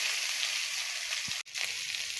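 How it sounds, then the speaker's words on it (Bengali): Cut potatoes fry in hot oil, giving a steady bright sizzle broken by a brief pause and a small clatter of stirring. "আলুগুলো ভেজে তুলব।"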